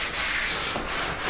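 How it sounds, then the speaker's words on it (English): Brisk back-and-forth rubbing of a 220 grit ultra-fine sanding sponge over painted wainscot, loud and close, with a few short rhythmic strokes and no talking. "He's doing the 220 grit sanding sponge."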